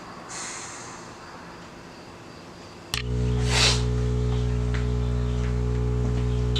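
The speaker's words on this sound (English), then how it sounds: "excuse the noise. The air tank is currently airing up" An air compressor fills the air tank of an air-bag suspension on a Genesis car, switching on abruptly with a loud, steady mechanical drone and hiss that holds on without a break.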